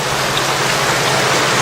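Rain falls heavily and steadily in a war movie scene, a loud, even, dense hiss of downpour filling the whole moment with no voices.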